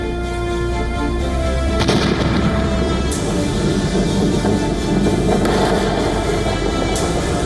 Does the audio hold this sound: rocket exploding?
yes